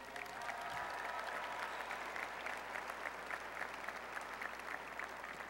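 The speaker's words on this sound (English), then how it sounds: "let's give the mothers a round of applause" Applause for the mothers at a university agriculture and natural resources commencement, a continuous, fairly distant crowd clapping that holds steady throughout, without speech over it.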